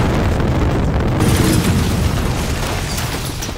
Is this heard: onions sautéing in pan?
no